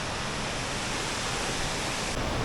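Close, constant roar of a waterfall, a loud, unbroken hiss of falling water with no voices.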